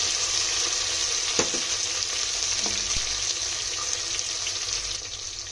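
Capsicum and other vegetables frying in a pan for veg pulao, a loud, steady close sizzle with a few sharp clinks of a spoon stirring against the pan.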